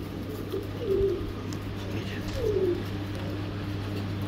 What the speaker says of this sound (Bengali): দেখছেন অনেক সুন্দর ট্যাম করা পাখি